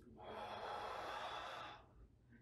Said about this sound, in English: Deep breath, breathe out.